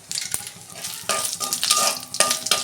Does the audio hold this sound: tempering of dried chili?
yes